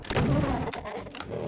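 A rocket launcher fires in the voxel-styled shooter Voxel Doom 2, giving heavy booming thumps close up with a short rumbling tail, as several blasts come in quick succession.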